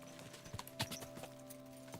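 A horse trots in the video game Kingdom Come Deliverance 2, giving quiet clip-clop hoof beats over a steady background hum, with a few sharper hits near the middle.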